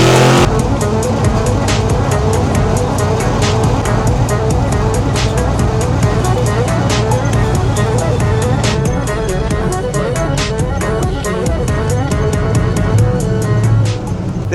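A 1972 Chevrolet K5 Blazer with Holley EFI drives on the road, its engine droning loud and steady throughout with a continuous rumble and rhythmic ticking, heard from close by.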